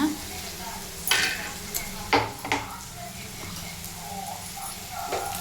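Onions frying in a pan, a low continuous sizzle broken by several clattering scrapes and knocks of a utensil against the pan, close but fairly quiet.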